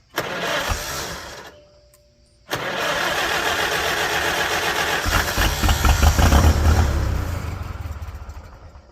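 Farmall H tractor engine cranking on its starter, loud and close, with a brief pause before a longer run of steady mechanical churning that grows rougher and heavier toward the end.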